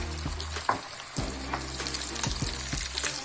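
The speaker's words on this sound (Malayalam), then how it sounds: "ഇങ്ങനെ ഇളക്കി കൊടുത്ത് സിമ്മിലിട്ട് നന്നായിട്ട് വേവിച്ചെടുക്കാം" Chicken popcorn sizzles steadily in hot oil over a low flame, with a spoon stirring through it in a few scraping bursts, close and continuous, no voices.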